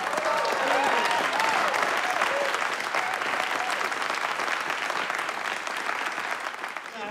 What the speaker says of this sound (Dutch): Ik geef haar nog een applaus.